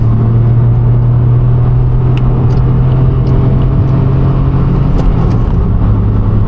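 A car engine idling steadily nearby with a constant low hum and rumble, loud and unchanging throughout.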